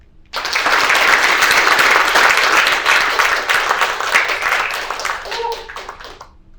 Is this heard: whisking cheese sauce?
no